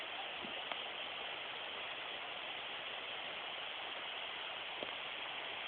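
Steady broadband rushing of a large river flowing, constant and unbroken, with a couple of faint clicks; no voices.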